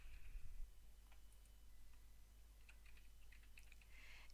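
Soft, quick clicks from a computer keyboard tap away in irregular bursts while a name is typed, faint and close, over a low steady hum.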